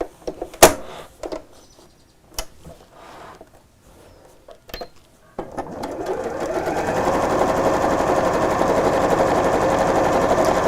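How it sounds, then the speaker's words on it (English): A sewing machine set to a long 2.6 stitch quilts straight lines on a tote, starting with scattered clicks and short bursts, then running in a steady loud continuous whir for the last five seconds. "now I'm going to use a long stitch on the sewing machine"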